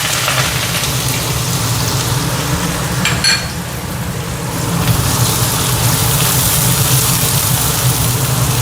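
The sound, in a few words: mustard seeds, cumin and asafoetida spluttering in hot oil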